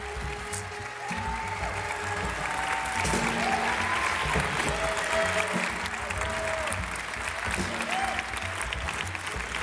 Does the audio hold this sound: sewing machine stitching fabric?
no